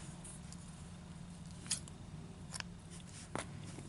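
Scissors trimming a loose thread end on the back of a handmade dreamcatcher: a few crisp, isolated snips spaced out over a steady low room hum, close and fairly quiet.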